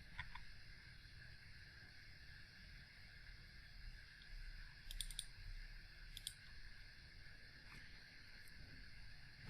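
A computer mouse clicking the OK button, a couple of faint, brief clicks in a quiet room with a soft background hum and no speech.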